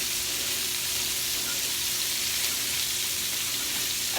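Cabbage and sausage sizzle steadily in a pan as they are stirred, a close, even hiss of frying with faint scraping underneath and no talking.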